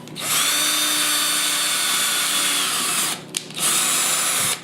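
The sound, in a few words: power drill drilling a pilot hole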